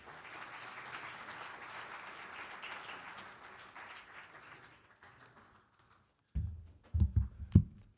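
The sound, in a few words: audience applause welcoming Rabbi Elliot Cosgrove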